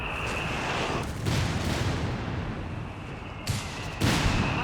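Booming German artillery fire in Company of Heroes 3, a steady rumble of distant blasts with sharper, louder impacts near the middle and end of the stretch, with no talk over it.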